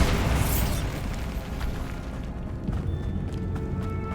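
A Bombarda spell explosion in Hogwarts Legacy bursts loud and close at the start, then rolls into a long, broad rumble of debris that slowly fades.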